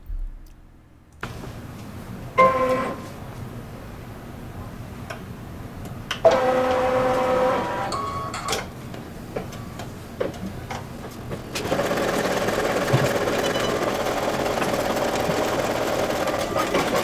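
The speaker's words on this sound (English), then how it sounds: "it is ready to go to the machine to stitch out" An embroidery sewing machine stitches out a witch appliqué block for a Halloween quilt, with steady rapid needle chatter that stops and starts, brief pauses and bursts, then a denser, louder run of stitching toward the end, no talking.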